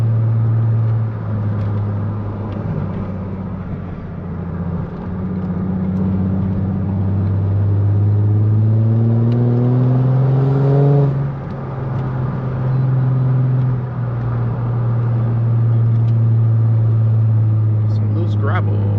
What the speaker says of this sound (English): Should be able to run my window down more so you can really hear the car